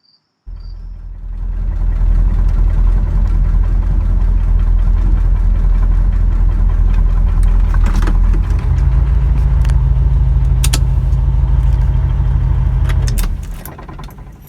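A 1970 Ford Thunderbird on a long road trip, its engine starting abruptly and droning steadily at high volume for about twelve seconds, then a pitch shift midway and a fade near the end, no talk.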